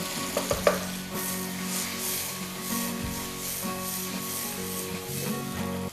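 Chopped tomatoes and onions fry in a pan with a steady close sizzle, and a few knocks and stirring scrapes come near the start.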